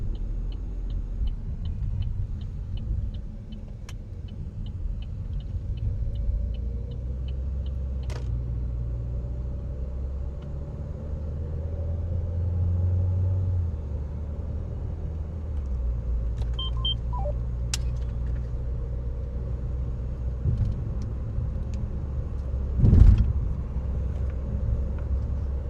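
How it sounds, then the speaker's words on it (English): Steady low road rumble from a car driving north on South Dakota Highway 47 during a storm chase. It continues throughout with no talk, and a brief louder thump comes near the end. "road rumbles"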